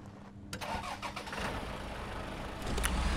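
A truck engine in the off-road driving game Snowrunner cranks and catches, then settles into a rough mid-pitched idle that swells louder toward the end.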